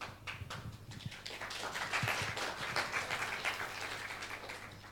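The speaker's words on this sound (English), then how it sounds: "What's with the applause?" Applause rises from the audience at a conference opening ceremony in Krusevo, a fairly quiet, moderately distant patter of clapping that swells slightly midway and carries on steadily.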